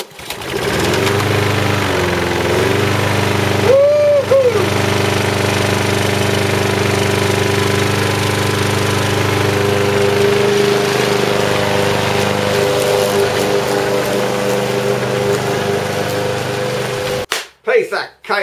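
After a pull with the choke on, a walk-behind lawn mower engine with a freshly cleaned air filter catches and runs at a loud, steady drone for about sixteen seconds, then cuts out abruptly with a few clatters.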